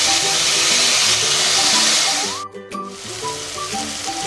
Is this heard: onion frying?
yes